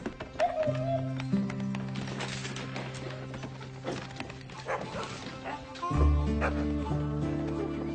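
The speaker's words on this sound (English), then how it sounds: "what are you barking at?" Dogs barking repeatedly, loud and close, with yips and whimpering mixed in, over a background of sustained music.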